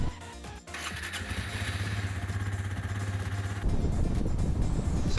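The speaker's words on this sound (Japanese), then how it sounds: "スタートボタンを押すとワンプッシュでエンジンがかかります。" A starter whirs briefly as the push button of a Suzuki GSX-S125's easy start system is pressed, then the engine catches and settles into a steady idle, rising to a rougher, louder rumble toward the end.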